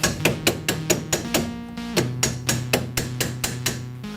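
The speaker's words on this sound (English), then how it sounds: "So you know what? Use a hammer." A hammer repeatedly striking a stuck steering shaft being removed from a 1994 Jeep Grand Cherokee, about fifteen sharp, ringing metallic blows in a steady rhythm, close and loud with no talking.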